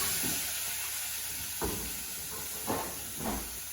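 Pork fillet frying in a pan, a steady soft hiss with a few brief louder sizzles and clatters as pieces move, fairly quiet and close with no talking.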